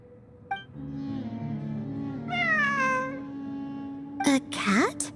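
A cat meows repeatedly in the Genshin Impact video game, a few short mews with rising and falling pitch near the end, following a speaking voice and soft game background music.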